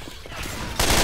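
Gunshots in the game Left 4 Dead 2: a quick cluster of loud, close shots in about a second, the last burst hitting hardest.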